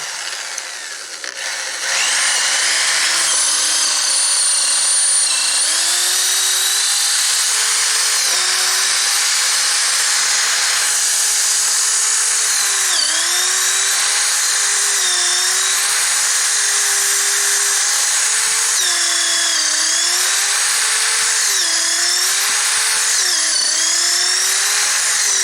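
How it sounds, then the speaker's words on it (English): A power drill bores one hole through timber while trusses go onto a disabled-access ramp, a loud, continuous high whine with the motor pitch dipping and recovering as the bit bites into the wood. "I'm going to drill one hole"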